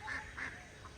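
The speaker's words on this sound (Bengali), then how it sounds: "আপনারা দেখেন এই যে হাঁসও এখানে পালে।" Domestic ducks kept beside a village fish pond quack a few times, two clear nasal calls and a softer third, fairly close with no talk.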